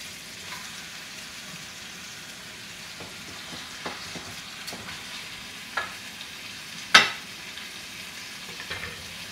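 Chicken sizzles quietly in a pot with translucent onions, making a soft steady frying hiss broken by a few light clicks and knocks, including one sharper clatter.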